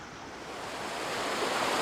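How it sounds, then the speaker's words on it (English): Water drains through a canal lock on the Rufford Branch, a steady broadband rushing that swells slightly louder over a couple of seconds, with no voices. "so what we're doing is draining some water from up here and putting it right down to lock 3 to fill it up."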